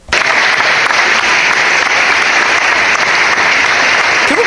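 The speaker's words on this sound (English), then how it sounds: "Can we clap it up for accountability?" Loud, dense applause from a large crowd, a sustained wash of clapping that starts abruptly and holds steady without pause.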